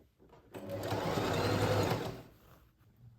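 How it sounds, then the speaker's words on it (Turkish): A sewing machine stitches a polo collar in one steady, close run of about two seconds, starting sharply and tapering off, with no talking over it. "Ve bir ayak boyu dikiyorum."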